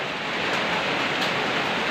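Steady, dense hiss of heavy rain pouring down on a house without a break, loud and close, with no voices, in Somdet district, Kalasin, Thailand.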